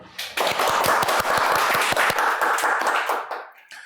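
An audience at a lecture bursts into applause to welcome a speaker, a dense run of close, sharp claps that builds quickly and tapers off near the end.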